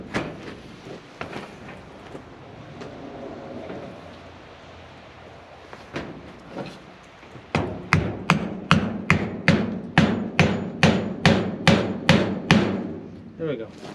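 Steady hammer blows on a nail during a DIY garage build, a few scattered strikes then a fast, regular run of about a dozen sharp knocks, loud and close.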